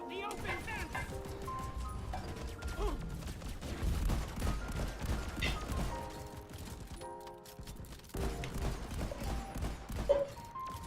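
Rapid gunfire aimed at an open vent in a video game, running as bursts of sharp shots over layered mechanical game noise and musical tones, with a short pause before a final cluster of shots.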